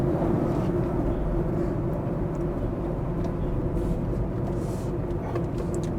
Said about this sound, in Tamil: ஸோ இந்த சவுண்ட் கேட்க நல்லா இருக்குது. ஸோ பெட்ரோல் இன்ஜின் தான்,